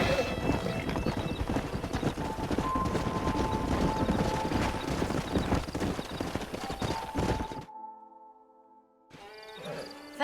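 Horse hooves clip-clopping steadily in the Red Dead Redemption video game, a dense, loud rhythmic trot under game ambience with occasional whinnies, cutting out abruptly near the end before a short burst of other game sound.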